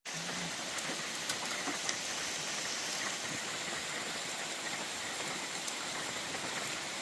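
Steady rain pattering at a campsite, a dense, even hiss of drops lasting throughout with no talk, close and moderately loud with slight variations in intensity.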